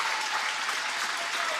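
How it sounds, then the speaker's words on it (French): Studio audience applauding on the set of the French Top Gear show, a steady dense wash of clapping lasting the whole moment with no voices on top. "C'est moi qui vous applaudis, vous avez bon goût."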